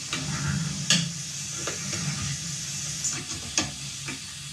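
Aromatics sweating softly in a pan, a gentle continuous sizzle with occasional stirring clinks and scrapes, close and moderate in level, with no talking.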